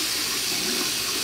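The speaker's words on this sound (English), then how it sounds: "this cold water feels good" Cold water runs from a tap in a steady, unbroken rush, close and fairly loud, with no voices over it.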